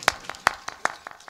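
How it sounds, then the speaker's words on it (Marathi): Rhythmic clapping at a kirtan: a handful of sharp, evenly spaced claps, about two or three per second, with no talk. "माझ्या दादा करता एकदा जोरदार टाळी वाजूया मस्त"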